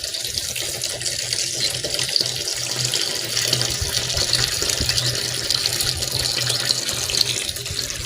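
Water pours steadily into a pesticide mixture in a cucumber field, a constant rushing splash that stays loud and even with no break.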